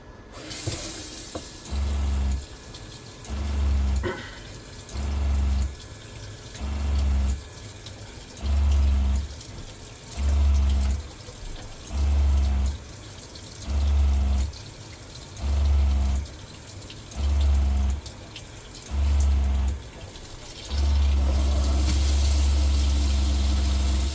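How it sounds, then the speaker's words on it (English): Hot water flows from a sink faucet in a converted box van, with a pump cycling on and off in regular low pulses roughly every two seconds before settling into a steady drone. "I'm gonna run hot water and see what that feels like"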